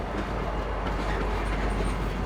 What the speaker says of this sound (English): Right now, the train is on the belt and heading easterly.